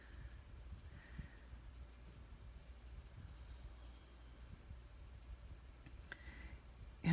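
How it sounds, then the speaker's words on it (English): A colored pencil drags softly across paper treated with odorless mineral spirits, making faint, steady scratching and rubbing strokes close up with no talking. "And the pencil goes on so smoothly after you spread paper with mineral spirits"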